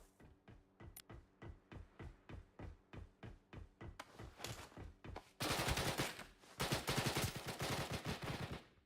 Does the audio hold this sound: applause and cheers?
no